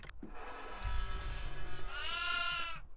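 Goats in the horror video game Devour bleat. Several long, wavering bleats overlap and stay fairly loud and close, with a muffled rumble underneath and no speech.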